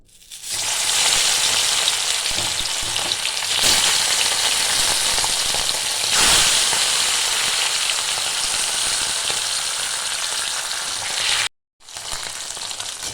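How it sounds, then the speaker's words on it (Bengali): Bata fish dropped into hot mustard oil, a loud dense sizzle that rises sharply at the start and holds steady, with brief surges, a short break near the end, then frying resumes. "তেলটা গরম হয়ে গেছে, আমি মাছগুলো দিয়ে দেবো।"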